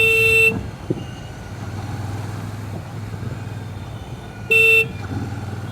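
A Royal Enfield motorcycle, Shotgun 650 or Himalayan 450, rumbles steadily while being ridden, its low exhaust note running throughout with wind noise, broken twice by short car-horn blasts.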